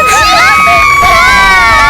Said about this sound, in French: Maintenant, applaudissez fort si vous êtes pour les garçons!